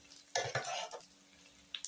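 Three garlic cloves fry in a pan while being stirred, giving quiet bursts of sizzling and scraping that swell briefly, then fade to a soft hiss, with faint clinks at the end.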